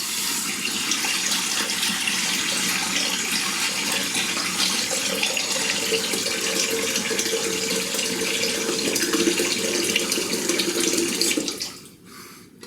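Water pours steadily from a tap for about eleven seconds, a constant hissing rush that cuts off abruptly near the end.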